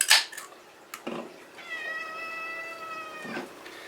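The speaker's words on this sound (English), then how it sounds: "As you can hear, the cat is making an appearance again," A house cat meows several times nearby: short cries at first, then one long drawn-out meow, loud and clear against a quiet indoor background.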